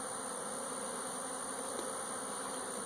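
A steady, dense buzz of many honey bees at an open hive during removal of top nucs, close and continuous, with a constant hum and no pauses.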